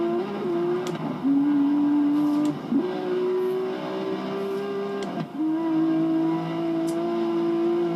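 A W Motors Lykan Hypersport in Forza Horizon 3 on the Goliath circuit: a steady, close engine drone that drops in pitch at each gear shift and climbs again under load, with no talk over it.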